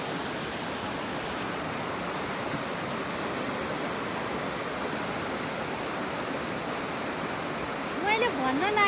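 A river rushes in a steady, broad wash of flowing water near Dhading, constant and moderately loud, with a voice briefly breaking in at the very end.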